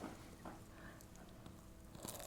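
A crispy oatmeal cut-out cookie being bitten and chewed close to the microphone, a few soft crunches spread across a quiet, low-level background.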